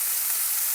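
Marinated chicken frying for a chicken stew as hot water goes into the pan, giving a brief, steady close sizzle and hiss.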